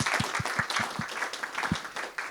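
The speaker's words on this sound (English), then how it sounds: "Please join me to give him a big hand of welcome" A modest audience at a fireside chat gives welcoming applause, a soft scattered patter of claps with a few distinct nearby hand strikes, fairly faint and tapering off.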